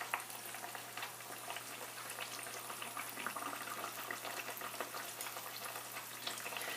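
Breaded chicken cutlet deep-frying in a generous amount of oil, giving a steady, close crackling sizzle that holds even and unbroken from start to finish, with no voices over it.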